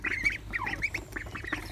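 Ducks quack repeatedly in short, nasal bursts, close by and fairly loud, several birds calling over one another in an outdoor setting with no talk.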